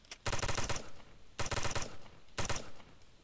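Gunfire in the America's Army Proving Grounds shooter: three loud bursts of rapid automatic fire, each lasting about half a second, with short pauses between them.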